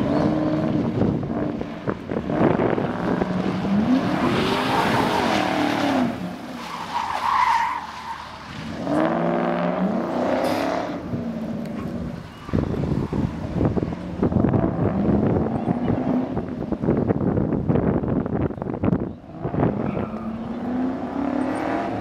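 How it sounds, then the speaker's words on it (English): A Mercury Marauder with a dual overhead cam engine is driven hard, steady engine roar and tire noise running continuously through, with wind buffeting the microphone and brief dips in loudness as it works through turns. "let the dual overhead cam engine sing"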